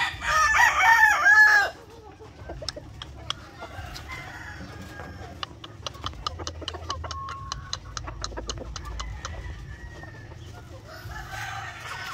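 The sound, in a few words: Asil gamecock rooster crowing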